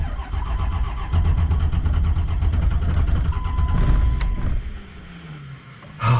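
A 12-valve diesel engine with newly installed head studs cranks and fires, then settles into a loud steady idle with no throttle applied before the sound drops off.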